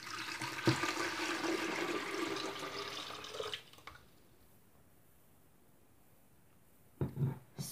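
Cold water runs steadily into a Milton sterilising unit for about three and a half seconds, then cuts off to near silence, followed by a brief clatter near the end.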